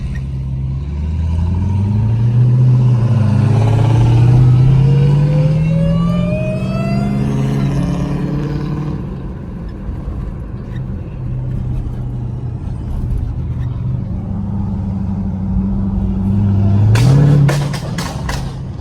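Jeep Trackhawk and two Dodge Hellcats cruising on Miami Beach roar loudly and close, engines climbing steadily in pitch through hard acceleration, easing off to a rumbling cruise, then surging again near the end.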